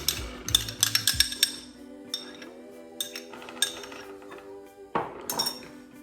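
A pot of yogurt being added to cake batter in a bowl, with bright clinks and taps of the pot and utensil against the dish, several quick knocks at first and then scattered single clinks.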